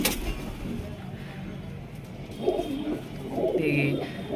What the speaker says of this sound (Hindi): कितना प्यारा कबूतर लग रहा है